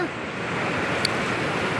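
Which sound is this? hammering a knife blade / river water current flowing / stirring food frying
river water current flowing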